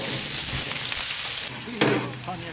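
Onions and spices fry in hot mustard oil for a fish dopiaza, a dense, steady sizzle close by, with a sharper burst of crackling and stirring near the end.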